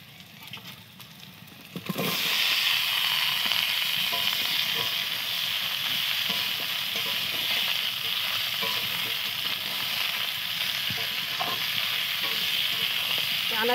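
Chopped vegetables fry in a pan with browned onions for a Bengali fish curry, starting quietly, then bursting into a loud, steady sizzle at about two seconds, with scraping stir strokes and clinks throughout.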